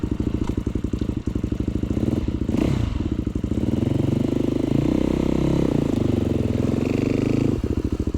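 An off-road motorcycle with carburetor trouble runs at a rough, loud, close idle with steady rapid firing pulses, then revs up and settles again amid a few clanks.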